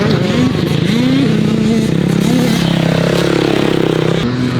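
A motorcycle at wide open throttle on a track, loud and close, its engine note rising and falling through gear changes with a buzzing roar throughout.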